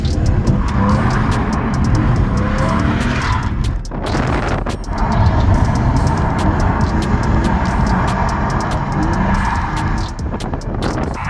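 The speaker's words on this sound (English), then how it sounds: "we took it for a bit of a skid at the skid pan" A BMW E46 fitted with an angle kit drifts on a skid pan, its engine revving hard and tyres squealing in long, continuous slides with brief lulls, loud and close.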